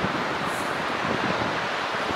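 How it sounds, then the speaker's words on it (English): A waterfall on a mountain trail in Rocky Mountain National Park gives off a dense, steady rushing hiss, with wind buffeting the microphone and no talk. "there's the waterfall that we have to scramble up"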